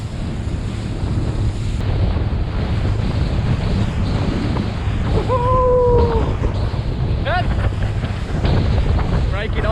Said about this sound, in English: this is the beginning of the swell